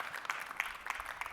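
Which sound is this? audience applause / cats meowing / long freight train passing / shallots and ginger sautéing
audience applause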